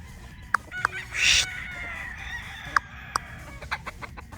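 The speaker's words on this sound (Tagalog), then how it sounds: "Ito yung isa pa nating brood stag na Golden Boy" Golden Boy brood stag rooster making short clucks and one drawn-out squawking call, fairly faint over low background rumble, with a few sharp clicks scattered through and no talking.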